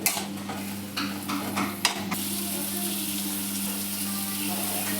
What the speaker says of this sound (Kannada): ಈರುಳ್ಳಿ ಹಾಕೋತಾ ಇದ್ದೀನಿ ಈರುಳ್ಳಿ ಎಲ್ಲ ಚೆನ್ನಾಗಿ ಫ್ರೈ ಆಗಲಿ